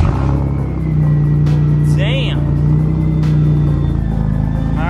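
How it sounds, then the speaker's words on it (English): A BMW E46 starts cold and settles into a loud, low, steady engine and aftermarket exhaust rumble, with a brief squealing whine partway through and a person talking over it. "Show you guys a cold start. This hasn't been on in a little bit. It's got a pretty decent exhaust."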